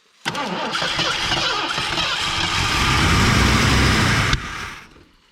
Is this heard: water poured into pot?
no